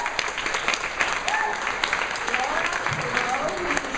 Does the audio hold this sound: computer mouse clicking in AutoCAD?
no